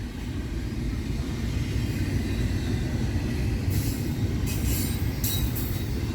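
A slow freight train rolls past on the tracks at a single-track section near a stalled train, with a steady loud rumble of wheels and cars and occasional high wheel squeals.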